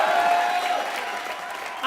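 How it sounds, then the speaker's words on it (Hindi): Brief burst of studio audience applause on a comedy TV show, steady clapping with a tone ringing faintly underneath. "जोरदार तालियां हो जाएं"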